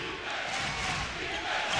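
Arena crowd at a 2000 UConn at Rutgers men's basketball game roaring and cheering, a dense, steady wash of many voices without clear breaks.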